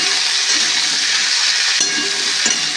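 Mixed vegetables stirred in a hot pan while cooking for a Bengali fish jhal chochchori, a steady close sizzle of frying with a few soft scraping knocks from the stirring, no talk.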